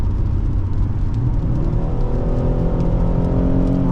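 A 2014 Ford Taurus Police Interceptor with a 3.7L engine revs under way, a steady loud rumbling drone with engine tone rising gradually, heard from inside the car with no talking.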